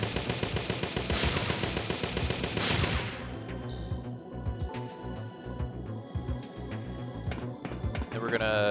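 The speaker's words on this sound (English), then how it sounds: "we're going to use the M950 to take out these turrets" Rapid M950 automatic gunfire against turrets in Parasite Eve 2 on PS1, a dense rattling burst for about three seconds followed by scattered game effects, shots and a rising electronic whine, with someone talking over it.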